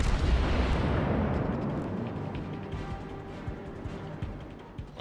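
Warship main guns boom in the naval game World of Warships aboard the cruiser Kutuzov, a heavy opening blast rolling away into rumbling decay with scattered distant impacts.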